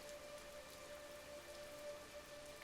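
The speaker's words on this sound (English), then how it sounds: "There's no one here but you and me, and the rain." Continuous night rain patters evenly on a surface with a faint steady tone in the background, unbroken and uninterrupted by any voice.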